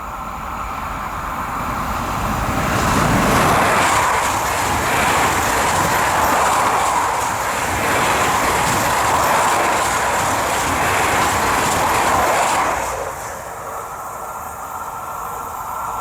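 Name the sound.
AGC train passing level crossing at Lagny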